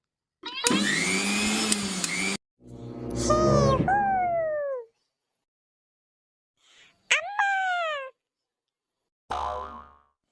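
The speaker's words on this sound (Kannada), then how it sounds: "ಮಿಕ್ಸಿ ಆನ್ ಮಾಡಿ ಅಷ್ಟೇ" A kitchen mixer grinder in a cartoon gives a loud whirring motor burst of about two seconds. Cartoonish boing-like sweeps and short sounds follow, separated by silent gaps.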